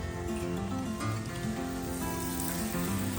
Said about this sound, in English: I'm just gonna water these seeds in because it's so dry